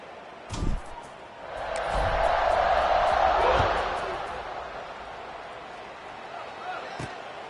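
A college football stadium crowd at kickoff, Minnesota hosting sixth-ranked Penn State, swells into a loud, sustained roar of cheering after a brief thump, then eases to a steadier murmur under a commentator's voice.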